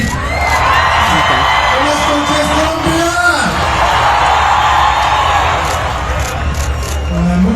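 A large crowd in Colombia cheers and whoops loudly and steadily. Many voices blend into a continuous roar and shouts rise above it.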